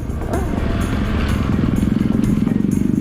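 An off-road motorcycle engine runs while riding, a close, throbbing rumble that grows into a rapid, pulsing putter toward the end, with a voice faintly present.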